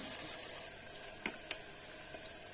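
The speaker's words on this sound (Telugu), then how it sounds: "ఆనియన్స్ వేసి వేడనివ్వాలి బాగా" Onions and green chillies fry in a pan for prawn biryani, a steady, moderately quiet sizzle with a couple of faint stirring clicks and no talking.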